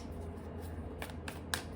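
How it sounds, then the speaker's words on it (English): Tarot cards being shuffled by hand, giving soft rustling and riffling with a few sharper flicks and slaps, close and quiet, with no talking. "I don't know why I shuffled, but maybe I was supposed to shuffle, I guess."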